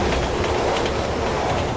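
A train in Resident Evil 6 roars past very close and loud, a steady rumbling rush of wheels on rails that fills the whole moment with no voices.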